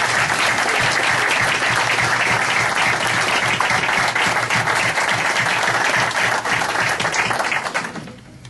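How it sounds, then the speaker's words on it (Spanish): Loud, sustained applause fills a municipal council chamber at the installation of a town council, dense and steady before tapering off abruptly at the close. "Un aplauso."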